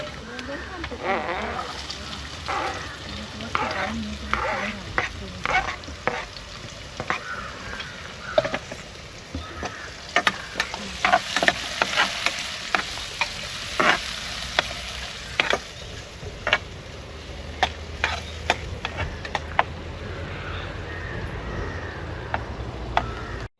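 Onion frying in a pan after garlic has browned, cooked outdoors beside a caravan: a steady low sizzle with scattered crackles and stirring clicks, while someone talks throughout.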